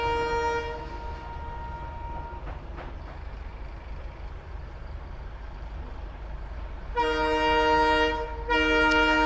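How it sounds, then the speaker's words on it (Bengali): A freight train rolls past a road where a Yamaha FZS V2 motorcycle is riding, a steady low rumble with harmonic horn-like tones near the start and again loudly toward the end, no voices. "এখান থেকে মালগাড়ি যাচ্ছে পসিবলি"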